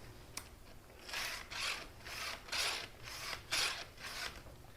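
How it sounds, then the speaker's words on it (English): A STIHL 2-in-1 sharpener files the chain of a vintage Homelite Super XL chainsaw in six or seven even rasping strokes, close and fairly quiet, each a short grinding scrape separated by brief pauses. "as you sharpen these things, to give yourself as much cutting surface"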